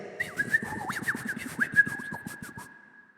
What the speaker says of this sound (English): It sounds like a robin.